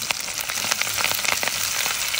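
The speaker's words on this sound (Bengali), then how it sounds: "আমি মরিচ কুচিগুলো দিয়ে দিচ্ছি।" Chopped chillies and onion hit hot oil in a home kitchen, cooking a broad bean and potato dish, giving a close, steady crackling sizzle with sharp pops throughout and no talking.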